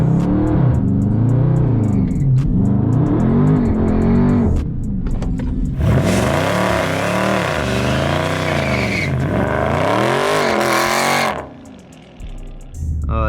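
A Dodge Charger 392 Scat Pack V8 revs and roars under throttle with the line lock holding the brakes, rising and falling in pitch, loud and close, then drops off near the end.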